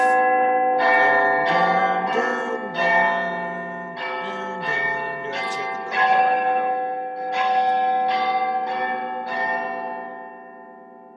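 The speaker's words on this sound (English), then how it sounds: "Bells chiming off." Church bells ring out in a bell tower in a steady peal, loud and resonant, overlapping tones chiming repeatedly with a long ringing decay.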